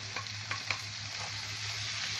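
Rice and lentils being stirred in a pot with fried onion and vermicelli for Egyptian koshari: a steady close sizzle of frying under a few soft scraping strokes near the start, with no talking.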